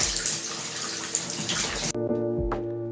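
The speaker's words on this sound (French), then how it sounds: "Donc je vais rincer abondamment pour détendre mes cheveux." Running water pours steadily as hair is rinsed, a loud continuous rushing splash that suddenly cuts off near the end, leaving a brief quieter moment with a last splash.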